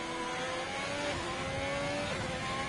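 A Ferrari F2 race car in a PS4 racing game screams at high revs, its engine note climbing and shifting through gears in a steady, close, continuous drone.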